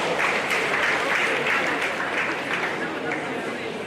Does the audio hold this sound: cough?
no